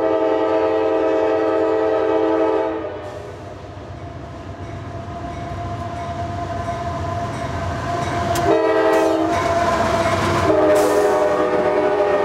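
A southbound American coal train rolls past loudly with a sustained rumble of wagons, its horn sounding in long tonal blasts that shift in pitch as it goes by.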